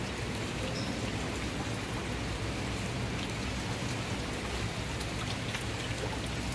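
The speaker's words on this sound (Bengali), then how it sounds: "ভালো হয়েছে, বৃষ্টি পড়ছে, খুব গরম, জলটা একটু পেয়েছি" Steady rain falls in a dense, even hiss of countless drops striking surfaces close by, constant and unbroken from start to finish.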